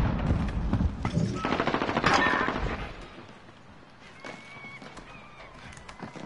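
Bursts of rapid automatic gunfire crackle through a tactical shooter match, dense volleys early on, then thinning into scattered shots and faint clatter.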